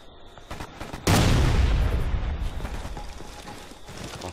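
Gunfire and a frag grenade blast in the online shooter Ghost Recon: Future Soldier, with a loud broadband explosion a second in that decays slowly under lingering scattered shots and clatter, no voices.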